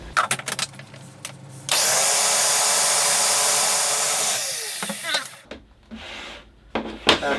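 Blender whirring steadily as it mixes crested gecko food powder with water, a loud continuous motor drone lasting a few seconds before winding down, with brief talk and clatter before and after.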